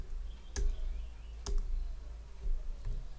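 A key pressed on a computer keyboard while adding a user in a Debian 9 terminal, heard as two sharp, distinct clicks about a second apart over a quiet background hum.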